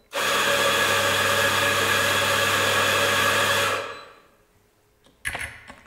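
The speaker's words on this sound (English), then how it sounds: "we want to put the portafilter back into the grinder and press the dose button" Sanremo coffee grinder whirring loudly as it doses ground coffee into a portafilter, a steady close grind that cuts off and winds down, followed by a brief clatter.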